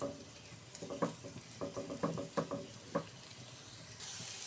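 Onion frying in a pan for a bottle-gourd-peel and mola fish head dish, with a soft low sizzle broken by several clattering stirs of a spatula, fairly quiet and with no talking.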